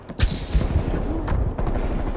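Sustained automatic gunfire in Call of Duty Black Ops Cold War multiplayer, loud and dense, with rapid overlapping shots and a heavier burst partway through.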